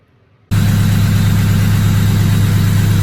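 Rebuilt car engine starts up and settles into a loud, steady idle right after a brief quiet start, a constant low rumbling hum close by with no talk.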